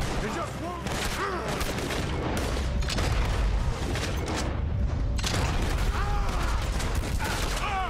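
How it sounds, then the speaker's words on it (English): Shotgun blasts from Red Dead Redemption 2 boom repeatedly and loudly in a chaotic firefight, with dense overlapping gunfire, mechanical clatter and muffled shouts throughout. "this shotgun is amazing"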